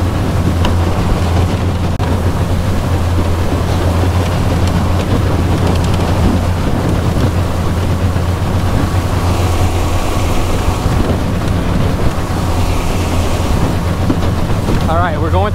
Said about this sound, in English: Through some big water chop right now.